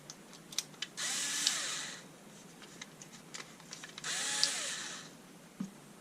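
A DeWalt DCD776 18V cordless drill/driver whirs in two bursts of about a second each, backing out T10 screws, with small clicks and taps of handling between runs; close and fairly loud.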